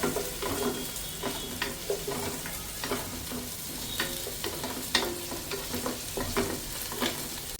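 Small onions frying in a pan for a roasted-coconut country chicken curry, a steady close hiss of sizzling oil broken by frequent spatula scrapes and clicks.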